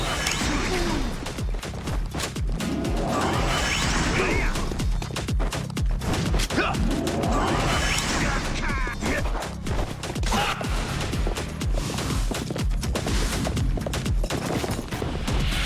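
Upgraded pistol firing with wide spread at a crowd of enemies in Like a Dragon: Pirate Yakuza in Hawaii, a dense, continuous volley of gunshots and impacts over busy game effects and music for the whole stretch.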